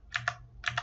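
Computer keyboard keys are pressed twice in quick pairs, with crisp, close clicks and nothing else around them.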